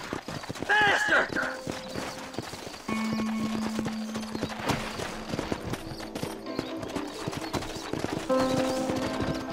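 Hoofbeats of a galloping horse in the Red Dead Redemption western game, a steady clip-clop running throughout, with game music, effects and speech over it.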